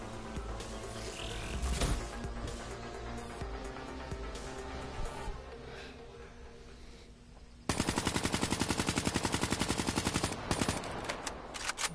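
Gunfire in a PS4 video game: scattered shots and bursts over game ambience, then a loud, rapid machine-gun stream in the final seconds.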